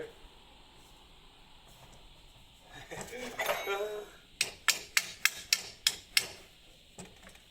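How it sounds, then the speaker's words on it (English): Hammer striking a Renault Kangoo wheel, about seven sharp metallic knocks in quick succession, preceded by scraping and rustling handling noise. "I'm starting hitting it with a hammer now."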